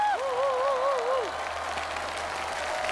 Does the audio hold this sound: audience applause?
yes